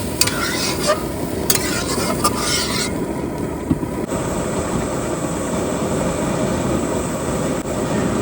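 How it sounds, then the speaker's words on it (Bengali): A pan of potato curry gravy with spices cooks on the stove, giving a dense, continuous bubbling hiss at close range and steady loudness throughout, with no voices. "তরকারি ঝোল ফুটে গেছে"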